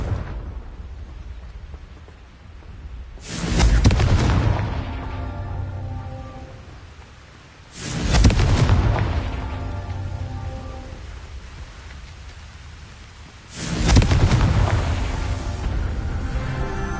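Confringo spell blasts go off in the video game Hogwarts Legacy, three loud booming explosions each followed by a long rumbling decay, spaced several seconds apart over a constant background hiss.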